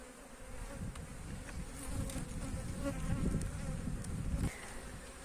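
Honeybees at an opened beehive during a hive inspection, giving a dense, steady buzz that holds close and loud for the whole stretch, with no talking.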